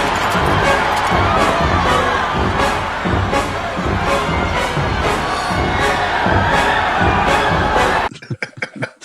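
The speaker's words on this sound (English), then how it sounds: "Several more shots ring out and the crowd runs for the exits while the score goes just absolutely apeshit." A panicked crowd roars and screams as it flees, with sharp gunshot-like bangs pulsing at regular intervals under loud brassy horn music. The noise cuts off abruptly near the end, leaving sparse, staccato hits.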